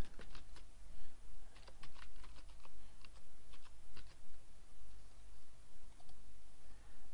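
Computer keyboard typing at close range as a username is entered, with bursts of quick key clicks separated by short pauses and no talk.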